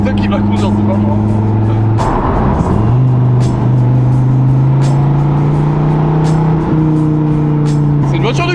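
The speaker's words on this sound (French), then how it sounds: "C'est une voiture de course." A Dodge Viper GTS supercar engine: a loud, steady drone with strong low harmonics, holding pitch then stepping up slightly, with a voice talking over it throughout.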